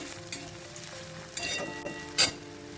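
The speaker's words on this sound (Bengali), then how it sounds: "পেঁয়াজটা দিয়ে একবার নাড়াচাড়া করে নেব ভালো করে" Chopped onions with ginger and garlic stirred in hot oil in a pan, with a low continuous sizzle and a few spatula knocks and scrapes against the metal, close and fairly quiet.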